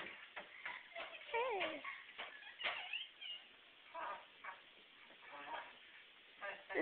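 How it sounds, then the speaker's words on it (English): A small dog whimpers and whines in thin, high cries while a person speaks softly nearby; the recording is faint and muffled. "This is Cheza, the cute puppy, and there's her boyfriend, Kiba."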